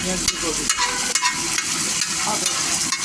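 Sliced onions are stir-fried in a hot pan with a steady, loud sizzle, broken by repeated scraping strokes of a spatula as they are tossed.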